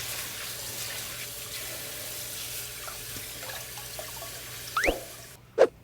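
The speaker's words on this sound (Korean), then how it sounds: "찬물에다가 얼른 헹궈요. 그리고 채를 놓고 다시 한번 주물르세요. 깨끗하게." Hijiki seaweed being rinsed in cold water at a sink, a soft running trickle with a few louder drips and splashes near the end.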